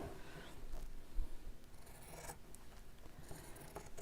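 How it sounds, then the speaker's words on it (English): Fabric cut with scissors makes a few quiet, close snips and soft rasping slides of the blades, with brief pauses between cuts. "then we'll cut this with the best scissors in the world"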